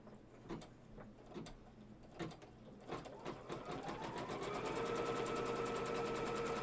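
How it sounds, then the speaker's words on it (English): An embroidery machine stitches down a quatrefoil quilt block in the hoop. It starts with a few scattered mechanical clicks, then settles into a steady, close, continuous whirring stitch rhythm with no talk. "And now I'll just stitch that down."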